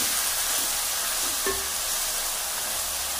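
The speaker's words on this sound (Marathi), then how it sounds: "गरम मसाला टाकला, आता याला व्यवस्थितपणे परतून घ्यायचं, भाजून घ्यायचं चांगला मसाला, मिरची वगैरे।" Garam masala and green chillies fry in a pan for vegetable pulao, giving a steady, even hiss and sizzle with a few faint stirring scrapes and no talk.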